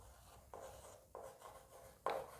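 A pen writes an English sentence on a board or paper, making short rubbing strokes in three distinct bursts. It is close and fairly quiet, and no one speaks.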